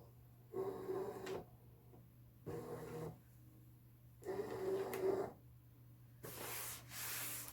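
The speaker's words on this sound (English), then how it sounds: "I'm going to load it into my machine by butting it up against these two little stops here and then hitting the mat button." A Brother ScanNCut DX cutting machine loads a cutting mat with several short, whirring motor runs separated by pauses, over a low steady hum, ending in a brief hissy mechanical sound.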